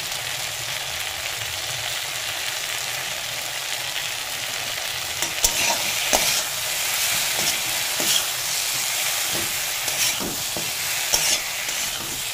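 Ridge gourd fries and sizzles in a pan with a steady hiss, while a spoon stirs it in scraping bursts that grow busier partway through.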